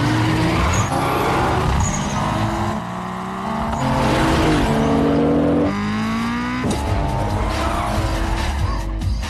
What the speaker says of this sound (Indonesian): Dan balapan pun dimulai.